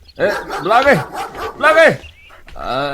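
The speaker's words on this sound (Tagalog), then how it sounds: "Makapanerbiyos mo't dito na aso." A dog barks in sharp, close bursts, three loud barks in quick succession followed by a short whine, near and alone.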